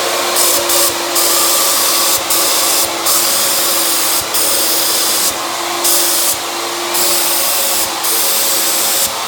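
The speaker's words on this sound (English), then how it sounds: "So now we got the paint loaded in the gun." A paint spray gun loaded with epoxy sprays a fiberglass bathtub, giving a steady loud airy hiss that cuts in and out in several short bursts, with a compressor-like hum underneath.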